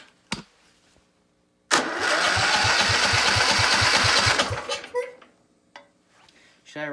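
A mud mower engine cranks over for about three seconds with a rapid rhythmic chugging, then cuts out without catching, framed by a few sharp clicks and knocks before and after.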